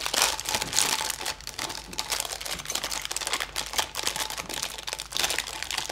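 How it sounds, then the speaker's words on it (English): A plastic parts bag holding Nerf blaster mod kit parts is torn open, giving steady close crinkling and rustling with sharp crackles for several seconds. "let's open this bag up real quick"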